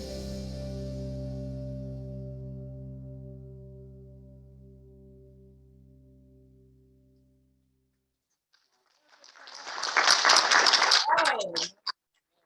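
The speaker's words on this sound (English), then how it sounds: "Now I know you can give a bigger round of applause than that" At a university feature during a space exploration meeting, a sustained musical chord fades out into near silence. Then an audience bursts into brief, bright applause for about three seconds before it cuts off.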